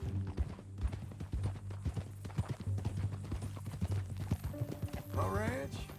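Horse hooves clip-clop at a walking pace in Red Dead Redemption 2, steady close thuds with talk in the background and a brief whinny near the end.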